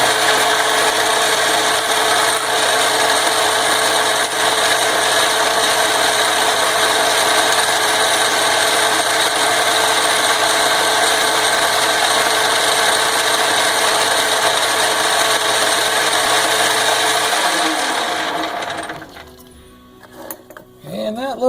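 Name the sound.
Atlas Quick Change 54 metal lathe taking a cutting pass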